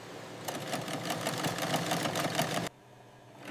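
Sewing machine running a fast, even stitching rhythm through thick black cowhide on the final seam of a bag, loud and close for about two seconds before it stops abruptly.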